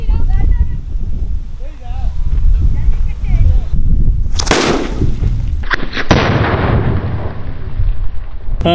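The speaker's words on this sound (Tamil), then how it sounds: "ஆறு இன்ச்சு ஜல்லிக்கட்டி வெடியுது" Six-inch Jallikattu paper firecracker, a Valangaiman nattu vedi, exploding outdoors: one sharp loud bang followed by a rushing burst of debris and noise, with someone talking before and after.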